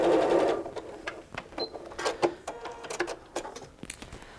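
A sewing machine stitches quilt pieces in short, rapid mechanical runs, stopping and restarting several times, moderately close and clear with no voices.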